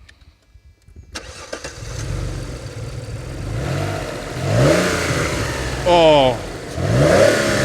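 A 2002 Alfa Romeo Busso V6 cranks and fires up close, then settles into a rough idle before several rising revs. A person briefly exclaims over the engine noise.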